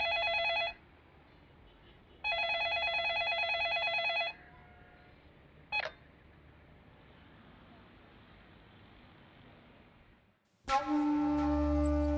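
A telephone rings unanswered in two long electronic trills separated by a pause, fairly faint, over a low background hum, followed later by a brief click and then louder unrelated sound at the end.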